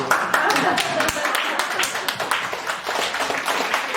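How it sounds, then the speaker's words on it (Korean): Listeners at a Korean national security lecture clap together, a brief burst of hand claps that fades into scattered taps and room murmur, moderately loud and fairly close. "박수 한번 치죠."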